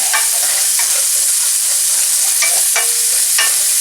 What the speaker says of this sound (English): I'm just going to stir it up a little bit so that the mushrooms can spread a little bit.